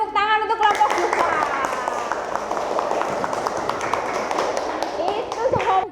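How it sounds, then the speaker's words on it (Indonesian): A classroom group gets applause: dense, steady clapping from many hands fills the room for about six seconds, with a brief voice at the start. "tepuk tangan untuk kelompok buka"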